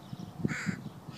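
Several crows caw in short, harsh bursts, a few close calls clustered in about a second and standing out loud and alone over a quiet background.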